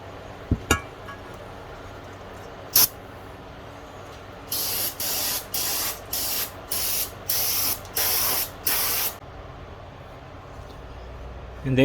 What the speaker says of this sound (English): Run through a couple bottles of cleaner.